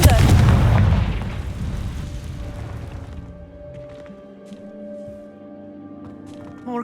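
A Confringo spell explosion in the video game Hogwarts Legacy, a loud deep boom that rumbles and fades over a few seconds into a quiet ambient tone.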